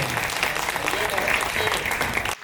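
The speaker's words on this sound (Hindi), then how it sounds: "आप जरा तालियां बजा के बता दीजिए" Audience at a Hindi comedy poetry gathering claps steadily in a dense, continuous burst that cuts off sharply at the end.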